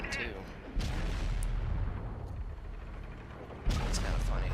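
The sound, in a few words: tank cannon firing in video game World of Tanks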